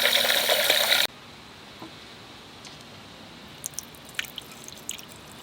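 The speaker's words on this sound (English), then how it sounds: "I use a pitcher to fill my radiator because I want to know exactly how much I put in" Coolant and water poured from a pitcher into a car radiator, a loud gushing pour for about a second that stops abruptly, followed by faint scattered drips.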